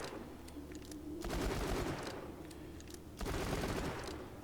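Maggie pistol in Borderlands spitting out bullets at a furious rate, two dense bursts of rapid gunfire with a brief lull between them, loud and close.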